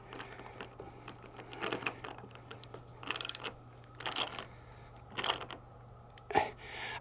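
Tool work tightens the screw on an aluminum electric RV awning arm, with short ratcheting clicks and metallic mechanical bursts at irregular intervals over a steady low hum.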